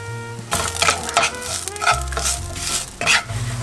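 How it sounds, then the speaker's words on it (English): Onions with a teaspoon of sugar sizzle and fry in a pan while a utensil stirs them, scraping and clinking against the metal in several bursts over a steady close crackle. "We add the sugar to the onions to make them a little bit more caramelized."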